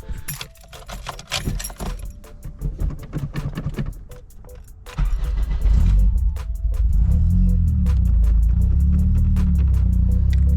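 An Acura RSX with a boost gauge installed: keys jangle in the ignition, the engine cranks and fires at about five seconds, then settles into a steady low idle rumble heard close up.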